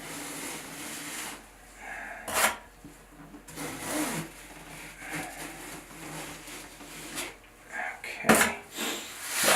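Kerdi-Fix sealant being smoothed out along a bathroom wall near the bottom of a tub during tile backer installation, heard as soft intermittent rubbing and scraping strokes, close and fairly quiet, with no talking.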